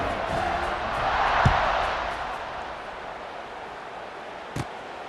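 Stadium crowd in the EA Sports College Football 26 video game, a broad, distant roar of cheering that swells, then slowly fades, with a couple of brief thuds.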